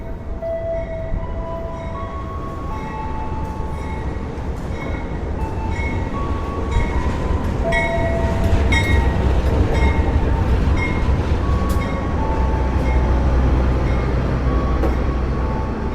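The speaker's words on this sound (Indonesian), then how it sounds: "ini dia kereta api Pandalungan" Pandalungan passenger train pulling into Probolinggo station on track 1, a loud, steady rumble of rolling railcars with rhythmic wheel clatter and occasional metallic squeals that build slightly as it draws closer.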